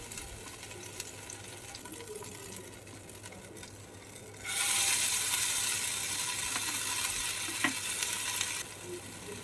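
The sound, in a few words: pumpkin seed fritters frying in hot oil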